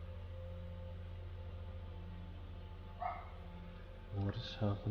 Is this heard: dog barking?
yes